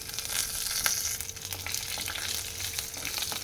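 Mustard seeds, cumin, chana dal, urad dal, a dry red chilli and curry leaves frying in oil for beetroot pachadi, a dense continuous crackling sizzle with faint stirring, close and steady.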